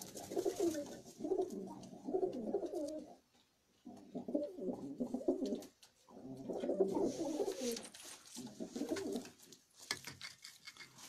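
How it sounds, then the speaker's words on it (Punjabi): Domestic pigeons kept on a rooftop coo in repeated low, throaty bursts with short pauses between them, close by and steady, with faint higher bird chirps in the background. "ਇਹ ਸਾਰੇ ਥੱਲੇ ਲੱਗੇ ਕੋਠੇ ਤੇ ਹੈ ਕਬੂਤਰ ਸਾਰੇ।"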